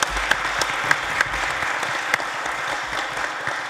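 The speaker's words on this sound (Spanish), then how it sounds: "Un aplauso al panel." At an agricultural mechanization seminar, the audience applauds a panel with steady, moderately loud clapping that runs for a few seconds.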